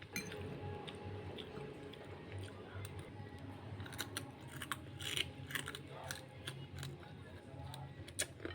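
Someone chewing crunchy ampalaya (bitter gourd): soft, crisp crunches repeat irregularly, close up but faint, with no talking.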